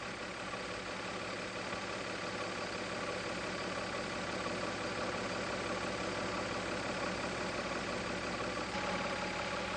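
Mazda MX-3 engine idling steadily during a tune-up, a continuous even hum with a faint mechanical whir, close and constant throughout with no talking.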